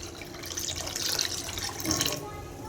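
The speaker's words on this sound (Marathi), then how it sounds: "इथे मी या दुधामध्ये अर्धा ग्लास पाणी ओतणार आहे" Half a glass of water poured into a litre of milk in a pan while making saffron-pistachio falooda, a brief steady splashing pour lasting a couple of seconds, close and fairly soft.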